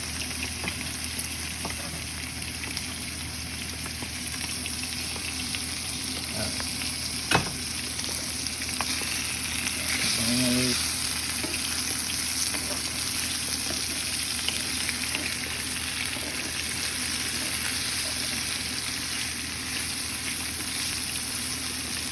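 Garlic frying in a pan for lomo saltado gives a steady, close sizzle that runs the whole time, with a single sharp clink partway through and a brief stir or scrape a few seconds later.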